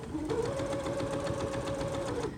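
Sewing machine stitching fabric for a patchwork pillow right after a backstitch: a steady, rapid needle chatter with a mechanical hum underneath, close and continuous for the whole stretch.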